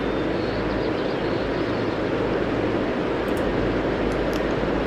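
A jet airliner takes off in the air traffic control game Tower! 3D, a steady broad roar of engine noise holding at constant loudness throughout, with no voices.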